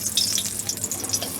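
Pieces of food sizzling in hot oil in a home kitchen while cooking fried dishes for a Bengali Ranna Puja, a close, continuous crackling hiss with small bursts of spatter and no talking.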